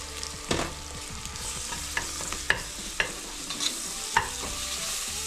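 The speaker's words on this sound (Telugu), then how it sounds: "పసుపు వేసి ఒక్కసారి ఇలా కలిపేసి" Mutton being stirred with turmeric in a hot pan, with a steady sizzle of frying underneath and a run of sharp spoon scrapes and clinks against the pan, close and fairly loud.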